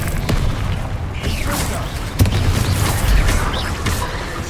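Bombarda spell explosions in Hogwarts Legacy burst out as loud, booming blasts over dense, busy combat noise, with a couple of sharp impact peaks standing out amid the continuous clamor.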